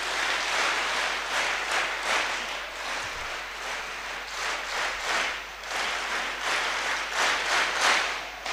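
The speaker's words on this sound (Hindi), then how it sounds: "तालियां बजाएंगे।" Large gathering of followers at an ashram clapping their hands together in a steady, rhythmic wash of applause that swells and eases over several seconds, with no voices over it.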